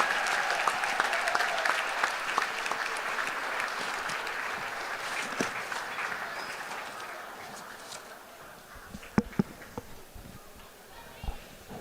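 Basketball gym crowd at a boys' high school game on senior night, clapping loudly for the seniors in a sustained wash of applause that slowly fades, with a few sharp claps and thumps near the end.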